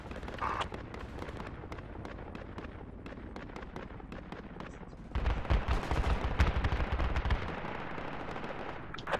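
Rapid gunfire hammering a house in the game Project Reality, dense overlapping bursts of automatic shots at middle distance, growing heavier and louder partway through.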